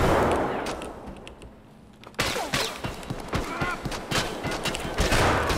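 Video game gunshots fired through a wall, first scattered sharp cracks, then a dense run of rapid shots after a sudden louder onset, close and punchy.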